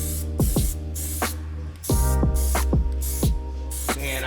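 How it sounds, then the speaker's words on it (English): Aerosol can spraying plastic dip onto truck wheels, with repeated hissing bursts of spray separated by short pauses, close and fairly loud with no talking. "I'm about to spray this plastic dip on my wheels."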